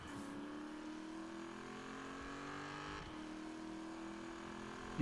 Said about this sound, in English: The engine sounds like a 1596 horsepower engine.